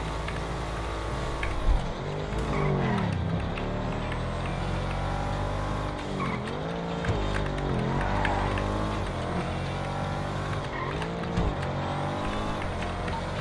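A car in GTA 5 roars in and skids, its engine revving and rising and falling in pitch with tire squeal at a loud, steady level against faint background game noise.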